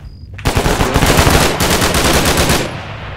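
Sustained automatic fire from a Negev machine gun in a first-person shooter, a loud, dense burst of rapid rounds starting abruptly and rattling steadily for about two seconds before cutting off.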